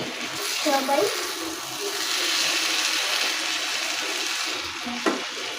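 Potatoes fry for aloo bhaji with a soft, continuous sizzle close by, while people talk briefly over it near the start and end.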